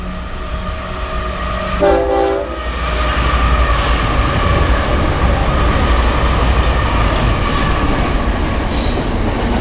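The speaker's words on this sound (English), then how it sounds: "Oh, looks like we got another freight locomotive." A freight locomotive train rolls past a Metrolink station platform, a loud close continuous rumble of wheels and cars with a brief horn-like tone near the start and a high squeal late on.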